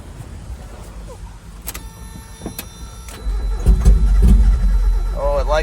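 A 1994 Mazda Miata, parked for 11 years, cranks with a few clicks and whirs before its engine catches on starting fluid and roars into a loud, rough idle. A voice briefly speaks over it.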